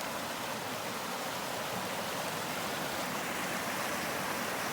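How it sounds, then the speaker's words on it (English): Small brook in Algonquin Park flowing around a log, water rushing in a steady, even broadband wash that holds constant throughout, close and fairly quiet with no voices. "A little brook here."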